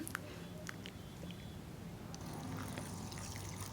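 Black kavuni rice is rinsed in a bowl of water, with soft trickling and sloshing up close and a few small clinks, growing slightly busier toward the end.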